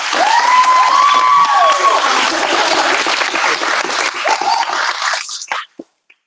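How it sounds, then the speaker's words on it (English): An audience at a student leadership conference gives a big round of applause with cheering and a rising whoop, loud and dense clapping that fades and cuts off near the end. "another big round of applause for Brady here."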